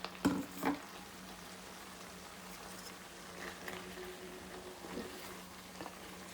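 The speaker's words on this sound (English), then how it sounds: "So give it with a very gentle hand, give it a stir." Kerala vegetable aviyal with tamarind extract being gently stirred in a pot, with a few soft scraping and sizzling stirs early on, then a low steady simmer with faint occasional clinks.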